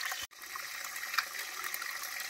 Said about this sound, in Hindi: ये देखिए पाइप से नीचे आते हुए बहते हुए